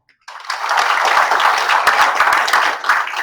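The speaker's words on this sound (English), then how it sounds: "Please join me in giving a big round of applause for Ajay." Audience applause for a speaker at an evening talk on AI and the future of medicine, a dense burst of clapping starting abruptly and holding steady, fairly close and loud.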